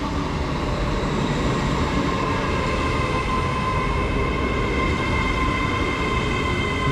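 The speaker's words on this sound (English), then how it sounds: "arriving in now is a 1613 Great Western Railway service from Bedwyn to London Paddington, which is 800-013" A Great Western Railway class 800 train, unit 800-013, pulls into Theale station, giving a steady loud rumble of wheels and motors with faint rail squeal, close by and without talk.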